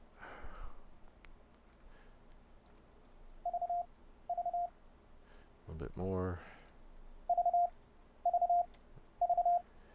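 Morse code tones sent over the internet through an Ubuntu 12.04 PulseAudio setup sound as short, steady beeps in several brief bursts. A quiet voice speaks in between, and a louder rustle or bump cuts in partway through.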